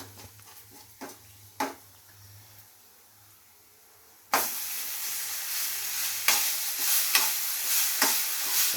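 Boiled Maggi noodles are stirred in a pan, with a few quiet scrapes at first, then a loud burst of sizzling and hissing that continues while spoon clatters sound over it.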